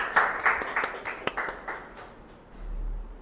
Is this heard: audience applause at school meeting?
yes